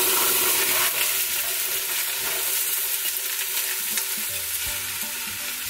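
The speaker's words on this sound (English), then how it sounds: "I'm gonna start sauteing my carrot and my celery and my garlic" Carrot, celery and garlic sauté in about 1.5 tablespoons of extra virgin olive oil in a pot, giving a steady, dense, close sizzle with a few soft stirring bumps and no talking.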